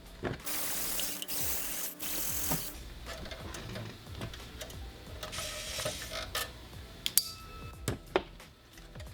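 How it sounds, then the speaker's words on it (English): Small screws being unscrewed from the back of a dashboard unit in a 958 Porsche Cayenne GTS, giving close, irregular metallic clicks and ratcheting ticks with a few sharper taps near the end; no one speaks. "Now we're going to take off these 3 screws on the back side."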